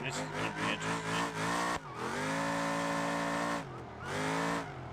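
A car in the driving game BeamNG.drive revs hard in short bursts, then a long tyre squeal with a loud engine drone sounds during a drift attempt on Utah roads. Another rev comes after a brief break.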